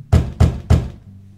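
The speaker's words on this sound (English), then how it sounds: "so I'm going to knock on it this time." Three evenly spaced knocks on a door in The Wolf Among Us video game, loud, close and dull thuds about a third of a second apart, followed by a low hum.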